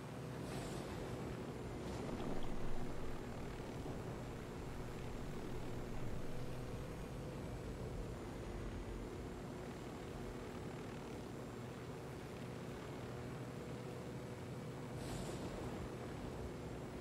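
A helicopter in the video game Ghost Recon Wildlands drones steadily throughout, a constant whirring engine and rotor rumble with wind-like hiss and no voices.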